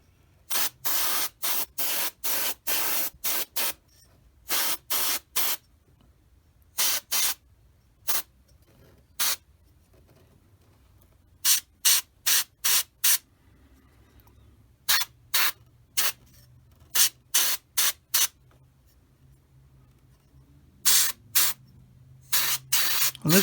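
A Paasche H single action airbrush sprays paint onto bare unprimed plastic in repeated short hissing bursts, each loud and close and separated by pauses of quiet, with no talking.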